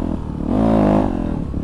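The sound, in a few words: motorcycle engine revving while starting a wheelie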